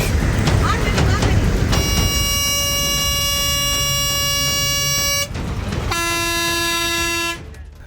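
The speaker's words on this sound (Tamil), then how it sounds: "இப்படி காதை கிழிக்கும் அளவுக்கு ஹார்ன் சத்தம் எழுப்பிய லாரிக்கு" A truck air horn blares in two long, very loud blasts over rumbling traffic noise, the second shorter after a brief gap.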